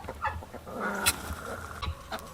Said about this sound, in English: See, we got turkeys right here